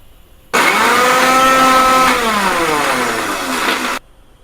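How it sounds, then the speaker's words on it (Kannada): Mixer grinder whirring as it grinds tomato chutney ingredients, a loud, close motor whine that starts abruptly, shifts pitch midway, then cuts off after about three and a half seconds. "ಇವಾಗ ಇದನ್ನೆಲ್ಲ ನೀಟಾಗಿ ರುಬ್ಕೊಂಬರೋಣ ಬನ್ನಿ."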